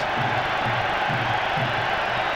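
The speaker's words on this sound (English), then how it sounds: "the Manchester United fans in this big Old Trafford crowd, and there's a good many of them as you can hear, give a great welcome to Scholes" Manchester United fans in the big Old Trafford football crowd welcoming Scholes, a loud, dense roar of cheering and chanting voices that holds steady throughout.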